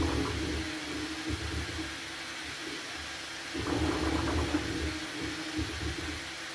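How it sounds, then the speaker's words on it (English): A Bambu Lab A1 3D printer's print head moves fast, a faint whirring motor hum with fan noise and a brief burst of quick stepping movements midway, with no talk. "I can't believe how fast that print head goes"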